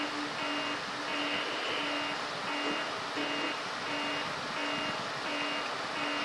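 A repeating electronic alarm from the Syphon Filter video game: steady, evenly spaced beeping tones that pulse on and off over constant loud background noise throughout.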